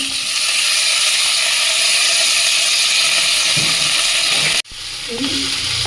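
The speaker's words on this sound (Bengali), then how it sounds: "সব শেষে দিচ্ছি আমি ডাটাগুলো হালকা একটু ভেজে নেব" Drumstick stems fry lightly in a pan, a loud continuous close sizzle with faint clattering, cut short by a sudden drop before quieter frying resumes.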